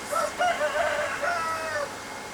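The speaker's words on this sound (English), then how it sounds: "There's a cockerel." A cockerel crows a drawn-out, wavering call at moderate distance over a faint low background hum from a pool pump.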